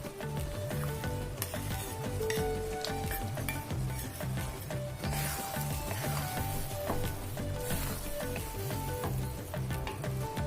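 Dry fruits stirred into sweet daliya lapshi with jaggery in a pot, a continuous busy scraping and soft sizzling bubble of thick porridge, close and fairly loud, with a light metallic clink now and then.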